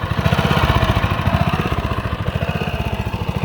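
An old Honda lawnmower engine runs steadily at idle with its blade disengaged, a loud, close, rhythmic chugging putter that holds an even pace throughout.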